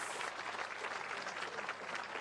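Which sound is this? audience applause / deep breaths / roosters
audience applause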